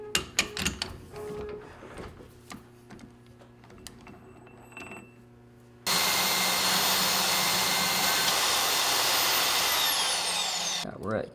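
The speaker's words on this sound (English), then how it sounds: "I'm gonna cut this off with the bandsaw" A bandsaw cuts through a metal part in a machine shop, starting after a stretch of scattered handling clatter and running as a loud, steady, bright grinding whine for about five seconds before stopping.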